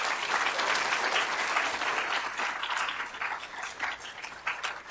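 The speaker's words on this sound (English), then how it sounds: "So can we have a round of applause for them again," Audience applause at a Yale clean energy conference tech talk Q&A, a steady, dense clapping from a full room that holds strong throughout with no speech over it.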